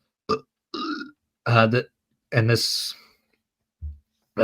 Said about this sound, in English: Sorry for that burp.